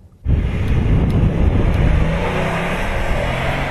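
A 2011 Ford Explorer with a 3.5-liter V6 and six-speed automatic, heard while driving: a steady engine drone and road rumble comes in abruptly and holds evenly at moderate loudness, with no voices.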